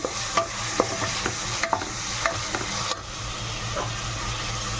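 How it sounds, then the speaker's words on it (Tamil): Onions and green chillies sautéing in a pan for mutton biryani: a steady sizzle with repeated soft scrapes and taps from a spoon stirring at a regular pace, close and fairly quiet, with no talking. "நல்லா வதக்கலாம்."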